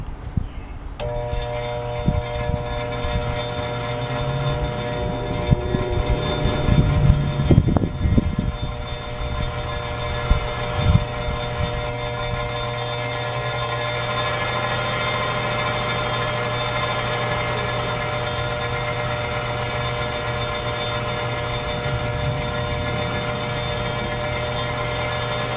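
A spark plug being cleaned on a spinning power tool, a steady high whirring drone that runs almost unbroken, with a few louder clunks and handling noises early on and no talking.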